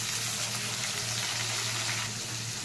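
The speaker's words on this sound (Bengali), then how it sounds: "আলুটা ভাজা হয়ে গেছে, দিয়ে দিচ্ছি টমেটো কাঁচা লঙ্কা আর কড়াইশুঁটি।" Fried potato, tomato, green chilli and peas cooking in a wok, producing a loud, dense, continuous sizzle close up, ending with a brief knock.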